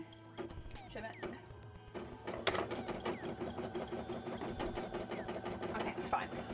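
A beading and embroidery machine runs steadily, its rapid mechanical stitching rattle continuing after a brief pause, with a person talking over it.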